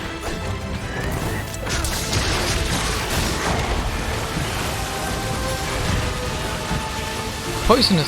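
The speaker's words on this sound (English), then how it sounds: "And that's a rain of poisonous" Poisonous scales raining down in the video game Monster Hunter Sunbreak, a dense pattering, crashing barrage of impacts with sharp whacks, continuous and loud throughout under game sound.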